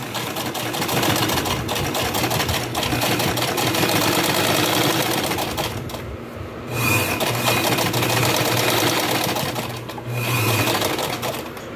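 Domestic sewing machine running steadily while taking in a pair of loose shorts, a loud, close, continuous whirring hum that dips briefly twice before resuming.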